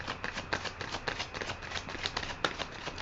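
Riffle shuffling of a tarot deck gives a dense run of crisp, fluttering card riffles, steady and close, with a sharper snap near the end as the cards settle.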